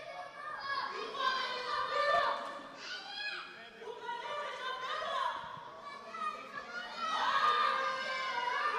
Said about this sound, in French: Donc on entend beaucoup de supporters hein, dans les gradins hein, crier des conseils aux combattants.